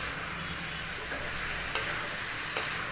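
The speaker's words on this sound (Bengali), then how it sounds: "ভালো করে একটু ভাজা ভাজা করে নেব মশলার সঙ্গে।" Dal with mixed vegetables and turmeric frying in a pan while being stirred gives a soft, steady sizzling hiss, broken by a couple of faint clicks from the utensil.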